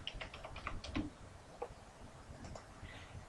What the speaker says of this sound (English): We're going to log in and type in our password